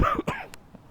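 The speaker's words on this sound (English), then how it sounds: "Sorry, I have a cough." A single short cough up close, with a quick second catch of breath, then quiet.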